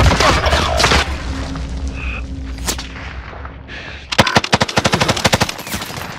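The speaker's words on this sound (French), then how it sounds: "On me tire dessus" Gunfire in the video game Call of Duty Warzone: a dense automatic burst at the start, scattered shots and background noise, then a rapid rhythmic string of loud, close shots near the end.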